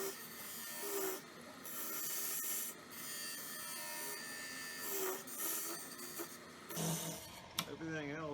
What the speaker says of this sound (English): Then a parting tool. Start shaping this the way I want it to go.